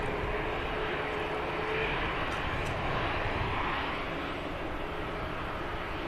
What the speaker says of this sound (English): I think this EasyJet will lightly take an intersection.